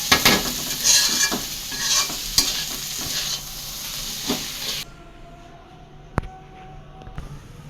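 Taro greens frying and being stirred in a wok, a loud hiss and crackle with scraping stirs, then the sizzle drops away abruptly to a quiet background with a couple of isolated clanks.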